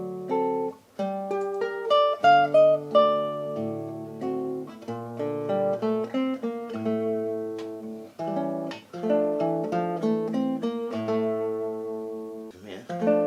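Classical nylon-string guitar plays a few bars of Albéniz's Mallorca, a gentle, close melodic line over low bass notes with brief pauses, and no speech is heard over it.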